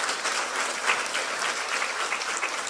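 Congregation applause in a church service, a strong, dense wash of many hands clapping together, steady and full throughout without a break.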